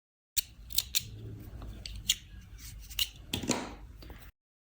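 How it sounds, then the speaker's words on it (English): Scissors snip a crochet yarn tail with several quick, crisp close-up clicks and cuts, a louder snip near the end, and no talking. "And we can cut the yarn tail of the magic ring here."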